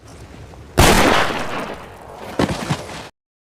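Gunfire in an action film scene: a sharp loud shot followed by a longer decaying rumble, then a second burst of cracks about a second and a half later, with no talking.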